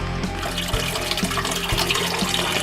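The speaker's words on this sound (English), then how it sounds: "And we're draining." Water draining from a 150 gallon aquarium gives a continuous loud rushing and gurgling flow, with no talk over it.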